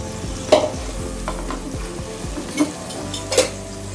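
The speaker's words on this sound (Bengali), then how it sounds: "চিংড়ি মাছটা প্রথমে আমি লবণ দিয়ে ভেজে নিচ্ছি" Shrimp fry in oil with salt in a pan, a steady sizzle broken by repeated spatula stirs and scrapes against the metal, with a few sharper clinks.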